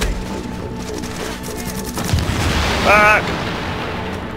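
A grenade blast in The Division, a broadband boom around the two-second mark amid ongoing combat noise, with a player swearing over it and other game sounds layered on top.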